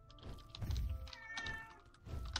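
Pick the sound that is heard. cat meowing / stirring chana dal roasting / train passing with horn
cat meowing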